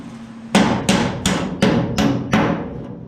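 Six sharp metallic hammer blows at an even pace ring out close by as a hammer and dolly straighten the fender edge of an 87 Dodge W250 truck. Each strike has a bright ringing decay.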